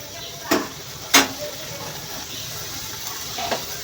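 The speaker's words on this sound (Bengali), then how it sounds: "আমি শুটকিগুলো কষিয়ে নেব।" Bamboo-leaf shutki, dried fish, frying in a pan under a low steady sizzle, broken by a few sharp stirring scrapes and clatters, with no talking.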